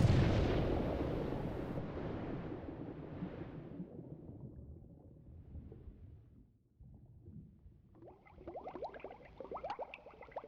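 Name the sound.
explosions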